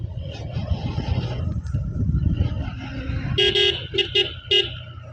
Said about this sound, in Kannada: ಹಾರ್ನ್ ಸ್ವಲ್ಪ ನಾನು ಜಾಸ್ತಿನೇ ಹಾಕೋದು ರೈಡ್ ಮಾಡುವಾಗ